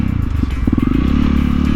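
A 2021 Honda CRF 300L motorcycle descends a steep hill in low gear, its engine a close, steady low putter with a brief clattering burst partway through.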